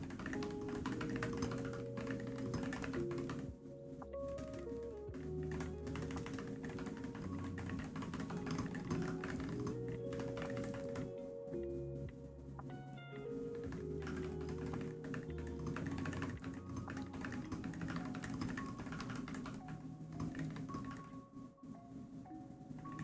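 Typing on a computer keyboard, soft rapid key taps running continuously under a bed of quiet background music, faint and close.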